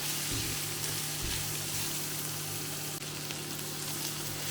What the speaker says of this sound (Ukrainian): Підсмажимо хвилинки 2-3.